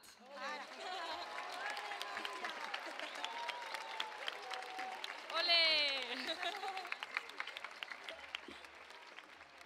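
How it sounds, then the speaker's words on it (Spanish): A school concert audience applauds its students in La Vall d'Alba, with steady clapping from a crowd running throughout while voices and cheering-like calls rise over it, swelling briefly in the middle. "Un fort aplaudiment per al nostre alumnat."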